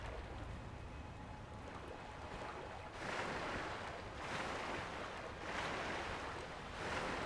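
Water sloshes and surges around a character swimming in the video game Sekiro, a steady rushing wash with swells building every second or so, fairly close and with no voices.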